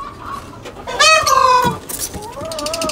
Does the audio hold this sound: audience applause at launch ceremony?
no